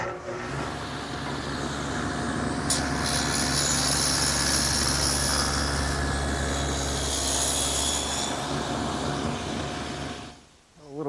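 A power tool cuts a groove into the side of an oak workbench piece, a loud, steady, close whine that holds for about ten seconds before cutting off.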